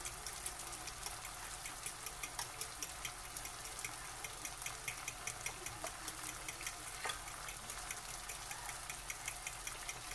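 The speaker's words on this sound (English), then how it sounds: "I'm just gonna whisk it now." Four eggs whisked in a bowl for a spinach omelette, a quiet, rapid and regular clicking that runs steadily under a faint background hum, with no voices.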